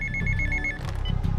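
A telephone rings in a tense bomb-thriller film scene with a rapid, bright electronic trill lasting under a second, then stops, leaving a low rumble and scattered clatter with no talking.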